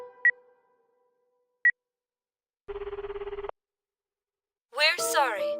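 A phone call rings in the video game Akiba's Beat: two brief electronic blips, then a short pulsing ring tone that cuts off, followed by a voice.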